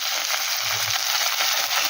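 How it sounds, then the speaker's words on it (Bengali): Fish frying in hot oil with turmeric and Kashmiri chili powder, a steady, loud, close sizzle that runs unbroken with no voices. "এবার এটাকে একটু ভেজে নিই আমি।"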